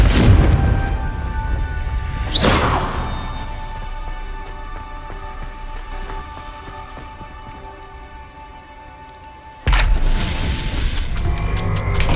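A Confringo fire spell goes off in Hogwarts Legacy with a sharp blast near 2.5 seconds, followed by a long crackling, sizzling tail and a second loud burst near 9.7 seconds, all without any talking.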